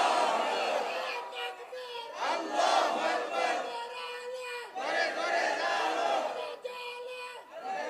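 Large crowd at an Islamic sermon gathering roars slogans in loud unison, swelling and falling in repeated bursts with brief gaps between shouts.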